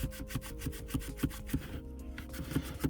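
Microfiber cloth rubbing dirt off BMW leather interior during a Pears soap cleaning, a steady run of close back-and-forth strokes with soft scrubbing swishes and no talk.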